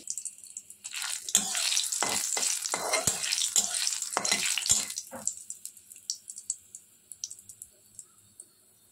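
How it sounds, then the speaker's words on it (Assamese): Dry chillies, panch phoron and bay leaves hit hot oil in a kadai and burst into loud, close sizzling that fades over several seconds into scattered crackles and pops. "এতিয়া মই শুকান জলকীয়া দি দিছোঁ, লগতে পাঁচফোৰণ, তেজপাত দি দিছোঁ।"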